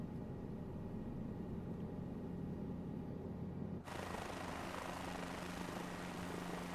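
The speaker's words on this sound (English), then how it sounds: "now that we're in the helicopter, it's pretty cool" Helicopter rotor and engine drone from a Microsoft Flight Simulator 2024 flight on PS5, a steady loud whir throughout that shifts abruptly to a brighter, noisier tone midway, with no talk.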